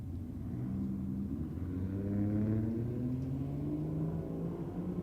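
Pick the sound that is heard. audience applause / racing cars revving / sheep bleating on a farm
racing cars revving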